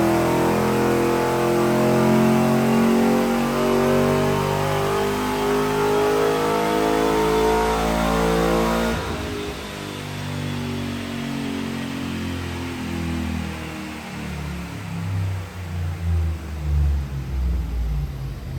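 A cammed Chevrolet Trailblazer SS V8 revs hard on a dyno, rising through a long loud wide-open pull that cuts off sharply and then drops into a lumpy, choppy idle as it winds down, with no voices.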